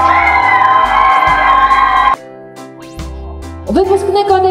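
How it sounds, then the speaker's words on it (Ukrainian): Audience at a dance festival in Odesa applauding and cheering loudly, a steady wall of crowd noise over music with held tones, dropping briefly before swelling again with whoops. "Ваші оплески."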